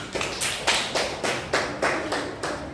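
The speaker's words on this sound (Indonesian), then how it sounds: "Bagus untuk kelompok yang pertama maju tadi, tepuk tangan." A small classroom group claps in unison for the first presenting group, about seven steady, evenly spaced claps at a brisk rhythm, close and fairly loud.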